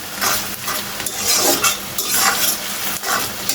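Onions sizzle and fry with chili, turmeric and salt while being stirred in a pan, a loud continuous hiss broken by scraping strokes of a utensil, no talking.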